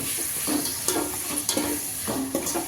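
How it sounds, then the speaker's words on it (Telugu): A bay leaf fries in hot oil for mutton biryani, giving a steady close sizzle with a few sharp stirring clicks and scrapes against the pan, with no voices. "నూనె బాగా కాగనిచ్చిన తర్వాత బిర్యానీ ఆకు వేయాలి కలపాలి"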